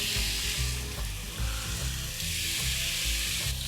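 A heavily salted beef rump steak cooks Argentine style on a hot barbecue grill, sending out a loud, unbroken sizzle close by with faint scraping, over a low tonal background.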